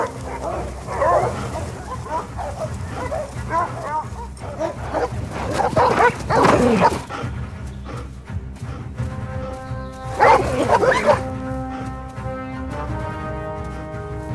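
A pack of hunting dogs fanned out on the trail of a wild boar barks and yelps in bursts, several dogs overlapping near and farther off, with a voice occasionally heard underneath.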